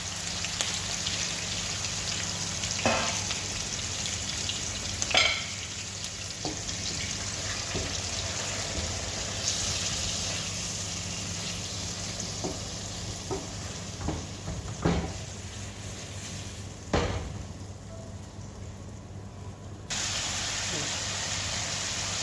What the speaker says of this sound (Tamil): இது மாதிரி நல்லா ஃப்ரை ஆகணும் சிக்கனு